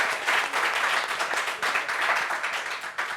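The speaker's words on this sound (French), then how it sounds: "on doit applaudir quand même pour ces deux femmes" A burst of audience applause, many hands clapping at once in a dense, lively wash that stays loud for a few seconds.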